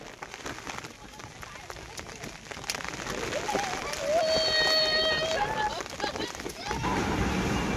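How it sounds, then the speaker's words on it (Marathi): Steady heavy drumming and splashing of a roadside waterfall pouring onto a car, a torrent on the roof, in a mountain ghat during rain, with voices talking over the rushing noise. "रस्त्यात एका ठिकाणी असा धबधबा आहे की सरळ आपल्या गाडीवरच पाणी पडतं"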